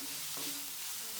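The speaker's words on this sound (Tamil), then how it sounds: "வெங்காயம் வதங்குறதுக்கு தேவையான அளவு உப்பு சேர்த்து நல்லா வதக்கி விட்டுக்கலாங்க." Steady sizzling of onions sautéing in a pan, a bright hiss with faint stirring, close and continuous.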